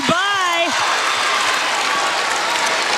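Crowd at a Georgia Tech vs Notre Dame women's basketball game cheering and clapping, a loud dense roar of applause filling the space, with a commentator's voice rising briefly at the start.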